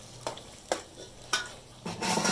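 Stirring keema in a hot pan as tomatoes go in, with four distinct scraping strokes roughly half a second apart over a steady sizzle that grows louder and more continuous at the end.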